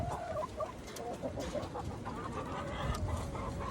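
A chicken clucks in short repeated bursts close by, with a steady rustling background and no speech.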